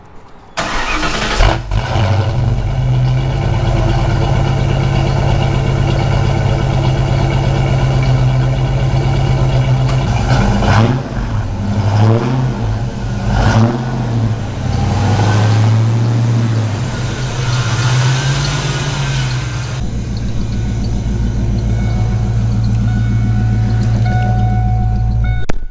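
A Ford Mustang's engine idles steadily up close as the car is pulled out, a low continuous rumble that holds through the clip with a slight dip and shift midway, no talking over it.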